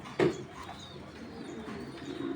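A breeding pigeon gives a short, soft coo close by, a single low throaty burst early on, followed by faint room noise and quiet rustling.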